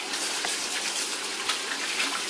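Tap water runs in a steady, gushing stream as hands are rinsed beneath it in a kitchen, close and continuous with small splashy variations and no talking.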